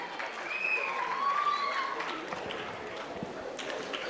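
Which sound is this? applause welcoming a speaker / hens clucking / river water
applause welcoming a speaker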